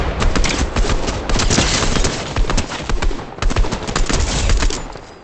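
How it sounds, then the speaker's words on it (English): Dense, continuous gunfire in a Fortnite No Build duos match, rapid overlapping shots and bursts packed tightly together for the whole stretch, loud and close with no talking. "Hey, I'm getting shot at."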